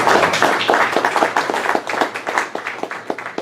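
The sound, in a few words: audience applause at a panel discussion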